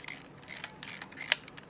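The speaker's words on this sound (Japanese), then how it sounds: "でこれでシャッターを切ればパチッとフラッシュ立てます" A Kodak M35 film camera firing its shutter with the flash on gives one sharp, close mechanical click in an otherwise quiet room.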